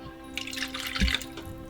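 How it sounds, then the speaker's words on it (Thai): Stock being poured a little at a time into a pan for steak gravy, heard as a brief soft splash and drip, close and quiet, with no talk. "ยายก็จะเพิ่มน้ำสต๊อกลงไปอีก"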